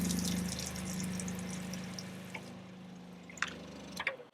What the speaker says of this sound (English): Now I'm going to turn the shower head on.